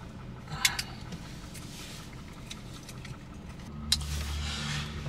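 A Kia Rio with a crank position sensor fault is driven, giving a low, steady engine and road hum inside the cabin, with a couple of sharp clicks or rattles.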